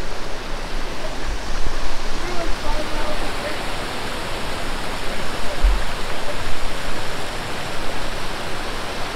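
Water pours steadily out of a rock hole at Copperas Falls in Red River Gorge, a loud, close, continuous broadband rush with no pause for the whole stretch.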